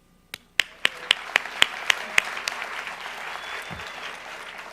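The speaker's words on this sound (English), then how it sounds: "You just definitely deserve that round of applause." Applause for nursing graduates of the class of 2017 at their pinning ceremony: a few sharp, separate claps that quickly swell into steady, full crowd clapping.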